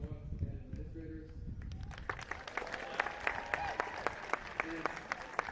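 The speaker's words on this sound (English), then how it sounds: "Can everyone please give it up for the class of 2026?" Crowd applause and cheering for the class of 2026 at a high school event, starting murky and rising into distinct, rapid individual claps near the microphone, with voices mixed in.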